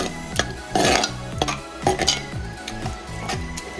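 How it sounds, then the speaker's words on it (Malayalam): A spoon stirs curd into mathanga (pumpkin) pachadi in a hot pan, giving steady rhythmic scrapes and clinks about twice a second over a soft sizzle, close and with no talk. "നന്നായിട്ട് മിക്സ് ചെയ്തെടുക്കാം."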